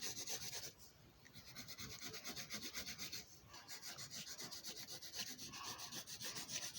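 A pencil scratches and rubs across paper while drawing designs, a faint, close, rhythmic scraping of repeated back-and-forth strokes with brief pauses between them.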